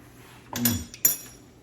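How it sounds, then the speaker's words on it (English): Blended roasted chestnut pumpkin soup is poured back into a Dutch oven, giving two short clanks and clinks of metal and cookware in an otherwise quiet kitchen. "I'm going to now put it back in the Dutch oven"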